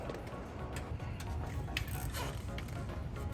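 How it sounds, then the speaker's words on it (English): A spanner works the oil sump plug loose on a Honda CBR1000RR motorcycle. Faint, soft ratcheting clicks and small metallic ticks come up close over a low, quiet background. "you're just going to want to take the sump plug off"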